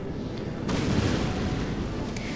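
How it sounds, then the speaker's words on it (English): Canister shot from cannons pounds away in a Napoleon: Total War battle, a low continuous rumble of distant artillery that swells into a heavier roar partway through. "But now I'm just pounding them with some canister shots."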